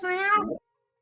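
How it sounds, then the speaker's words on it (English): A cat gives one clear, close meow that rises and then drops away, lasting about half a second, with silence after it. "Cat."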